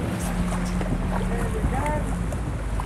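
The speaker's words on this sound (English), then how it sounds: "But this wind is terrible." Strong wind buffets the microphone beside a pond while fishing for bass, a loud, constant low rumble with faint voice-like tones buried beneath.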